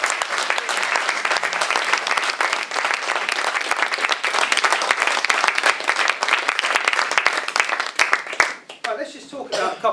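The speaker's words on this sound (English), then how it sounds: "Give a round of applause" Audience applause after a hypnosis demonstration at a lecture, loud dense clapping from many hands filling most of the clip before breaking up near the end, where a voice is briefly heard.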